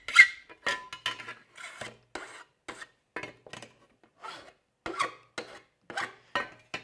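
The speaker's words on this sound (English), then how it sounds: "I'm actually going to file that bottom edge down just a little bit, kind of take some of the sting out of it, blunt it a little bit" A hand file works a metal edge, blunting the bottom edge and taking burrs off the sides, in short rasping strokes with brief pauses between them, close and fairly quiet.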